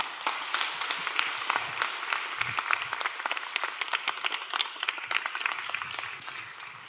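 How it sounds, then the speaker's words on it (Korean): Audience applause welcoming the chairman at a lecture on the Yeosu National Industrial Complex crisis held at Yeocheon First Church, a steady dense clapping from a sizable crowd throughout, fairly loud with no voices. "이제 우리 회장님 나오시고 박수로 환영하겠습니다"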